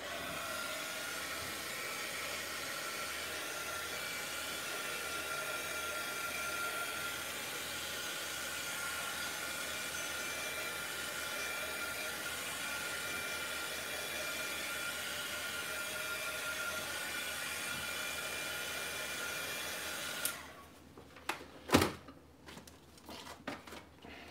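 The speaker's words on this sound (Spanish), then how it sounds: "Y uso un secador." A hair dryer blows steadily to dry distress oxide ink on paper for scrapbooking, a constant close airy roar that shuts off after about twenty seconds, followed by light handling clicks and knocks.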